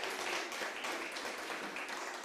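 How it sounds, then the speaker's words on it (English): Audience applause at a women's empowerment summit, a steady dense patter of many hands clapping together in a hall, moderately loud and continuous with no speech over it. "So let's give them all a big round of applause."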